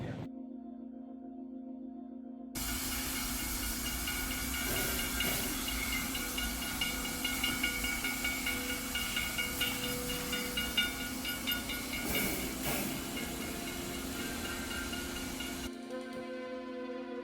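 A steam locomotive sits idling at a station in Keystone, South Dakota, with a steady hiss and low mechanical hum, quiet ticking and clanking beneath, no voices.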